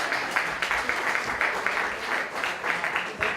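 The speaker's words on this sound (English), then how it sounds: "give a warm round of applause to Mr. Howie Wright, director of the camp." Audience applause at a comedy night, a steady wash of clapping from a crowd that rises and falls in soft pulses and sounds moderately distant.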